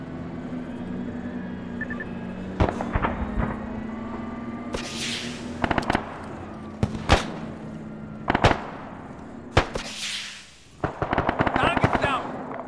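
Gunfire in the military video game ArmA 3, with sharp separate shots and short bursts at varying distances over a steady low hum, some shots loud and close, others fainter.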